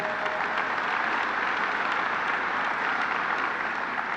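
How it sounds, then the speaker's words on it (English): An audience applauds loudly and continuously at a governor's announcement of construction on the new Moynihan train hall, with dense clapping throughout. "let's give them a round of applause"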